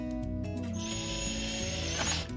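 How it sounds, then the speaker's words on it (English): A cordless drill runs while a kids' garden bed is being built, giving a loud, steady motor whine with a rising high-pitched tone that holds throughout before cutting off near the end. "This is a cordless drill, and I'm going to get it started for you"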